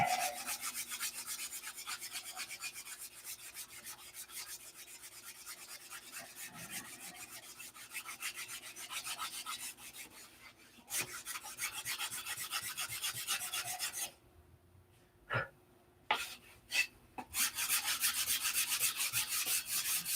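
Sandpaper rubbing across a wooden workpiece to remove scratches, a steady rasping scrub of repeated strokes that stops briefly near the end, then resumes in short bursts before continuing.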